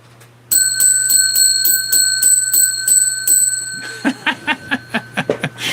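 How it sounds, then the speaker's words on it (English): A bright bell rings in a rapid, steady series of strikes, then shifts to a few separate, sharper dings near the end. "I'm going to ring the bell right now."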